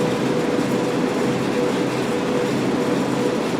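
BNSF ES44C4 locomotive hauling heavy freight over Cajon Pass in Train Sim World 3, a steady loud diesel rumble with rolling wheel noise and a constant engine tone, no voices.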